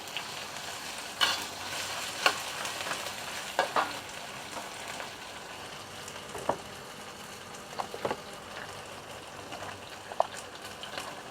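Cooking oil crackles and sizzles in a pan as ingredients go in and are stir-fried, a moderate steady hiss broken by sharp spatters and utensil knocks, with no speech.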